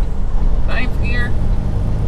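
A truck engine drones low and steady from inside the cab after a shift into ninth gear on a highway, a constant loud rumble with a brief voice speaking over it.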